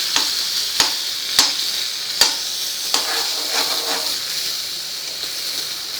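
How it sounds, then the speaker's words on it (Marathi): Butter melts and sizzles with vegetables in a pan, a steady bright hiss broken by sharp clicks of stirring, close and alone. "2 टेबलस्पून आपल्याला इथे बटर घालायचं आहे भाजीला. वितळवून घ्यायचं आहे."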